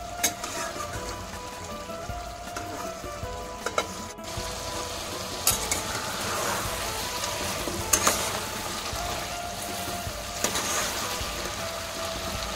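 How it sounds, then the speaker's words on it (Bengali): Ginger garlic paste fries and is stirred in a pan for mutton curry, a steady, fairly quiet sizzle with occasional louder scrapes and clinks of the spoon, no voices. "এর জন্য ভালো করে মিক্স করে নেব এবং ভাজা করে নেব।"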